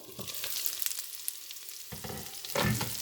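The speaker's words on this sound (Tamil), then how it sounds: "இந்த போர்க் இதுலேயே ஆயில்லையே அது குக் பண்ணி கொண்டு இருக்கு" Pork cooking in its own rendered fat, with no added oil, for a fried sukka: a steady crackling sizzle, with louder spitting bursts and scraping stirs near the end.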